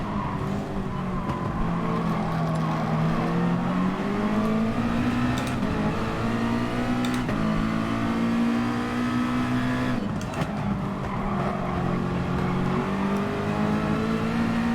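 A race car lapping Barcelona in GT Sport, its engine loud and close as it rises and falls in pitch through gear changes and corners, with brief sharp breaks in the roar.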